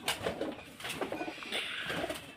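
Soft, low cooing from pigeons, with rustling and a steady background of indistinct noise; no voices.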